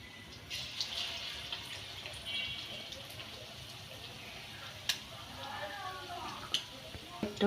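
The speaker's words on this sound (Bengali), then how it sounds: "তেলের ভিতর ছেড়ে দিচ্ছি।" Besan-battered fritters dropped one by one into hot oil fry with a soft, steady sizzle and hiss, punctuated by a few sharper crackles and pops, fairly quiet throughout.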